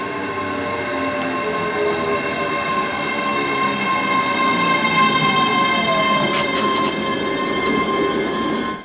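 A ScotRail express train on the Edinburgh and Glasgow line rumbles along the rails at a steady pace, with a droning hum and occasional faint wheel squeals, close and continuous, no voices.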